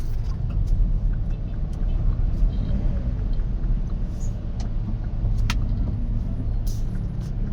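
Gridlocked traffic on Commonwealth Avenue, Quezon City, near the Sandiganbayan, heard from inside a vehicle: a steady low engine rumble drones throughout, with a few faint distant clicks and hisses.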